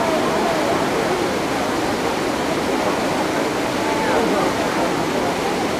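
Water of the Trevi Fountain in Rome pouring and splashing: a steady, dense rushing wash that runs unbroken throughout, with faint voices of a crowd mixed into the roar.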